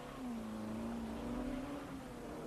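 A 1961 Le Mans Alpine race car engine drones steadily as the car arrives, a sustained mid-pitched tone holding at near-constant loudness with slight pitch drift.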